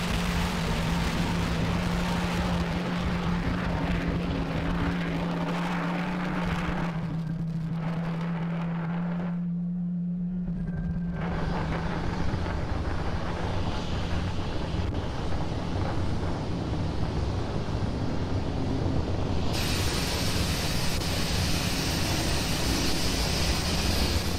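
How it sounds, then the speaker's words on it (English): Falcon 9 rocket engines roaring after liftoff from pad 39A, a dense, steady broadband rumble with heavy wind buffeting on the microphone, continuous and loud throughout with no talk over it. "As you can see, Falcon 9 has had a successful liftoff from pad 39A."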